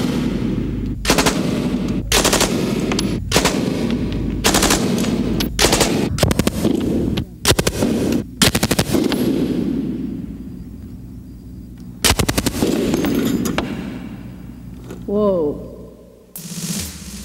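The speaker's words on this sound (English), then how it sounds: "The Stoner uses 223 caliber ammunition, and let's take it out for a test drive." A Stoner machine gun fires .223 caliber ammunition on full auto in a series of loud, close bursts of rapid shots separated by short pauses, with echoing tails and a brief exclamation late on.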